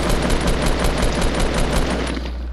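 Rapid automatic gunfire in a Fortnite-style shooter game, a loud, close burst of fast, evenly spaced shots running for about two seconds before trailing off, with no talking over it.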